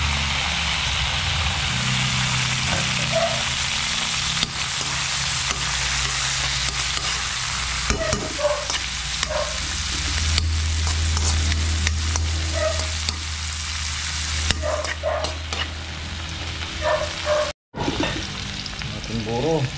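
Garlic fries and is stirred in a hot pan, a continuous loud sizzle broken by scraping stirs and clinks of a utensil, with a brief drop-out near the end.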